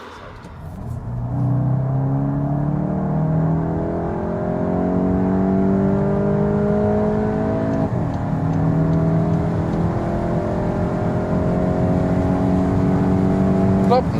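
A 2021 Volkswagen Golf GTI Mk 8 pulls hard up to 180 km/h, its engine note rising steadily through the gears with brief dips at shifts, heard from inside under a continuous road rumble.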